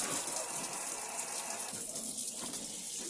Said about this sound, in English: you open the tap to get all the air